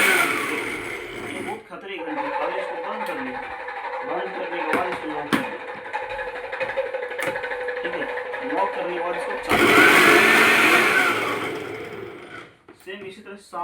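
A Morphy Richards all-in-one food processor runs steadily with a whirring motor hum for most of the stretch, surging louder near the end before cutting out, while a person talks over it.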